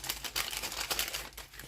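Sticky-backed sheet being lightly folded over by hand during resin craft work, a close, continuous crinkling and crackling of plastic with small uneven bursts.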